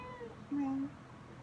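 A cat in heat gives a short, whiny meow close by, with faint background noise and no talking.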